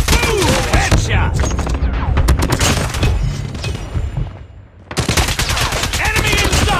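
Loud, dense gunfire in Call of Duty multiplayer, rapid automatic bursts crackling almost without pause, dropping away briefly near the end before resuming at full intensity.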